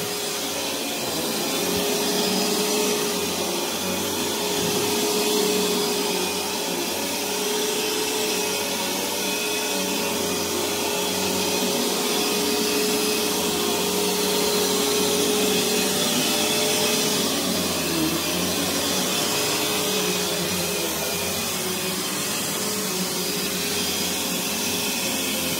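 An Eureka or Bissell vacuum cleaner runs down a hallway, giving a continuous loud whine and hiss that holds steady with slight shifts in tone as it moves.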